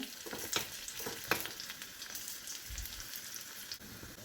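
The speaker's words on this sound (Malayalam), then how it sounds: "അതൊന്ന് ഫ്രൈ ആയി വരട്ടെ." Oil sizzles and crackles steadily in a pan as chopped ingredients fry for a Kerala chembu (taro) puzhuku, a close, continuous hiss with a few sharper pops.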